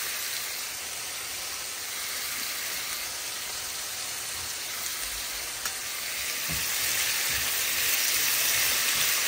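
Potatoes frying in a brand new pan for aloo bhaji, a steady, even hiss of oil that runs unbroken and grows slightly louder near the end, with no talking.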